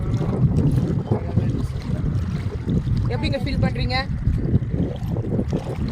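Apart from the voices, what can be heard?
strong wind at a beach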